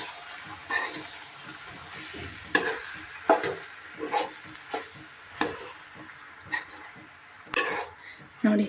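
A tempering of curry leaves, coriander and chili cooks in a pan. It makes intermittent sizzling bursts and stirring clatter, with someone talking.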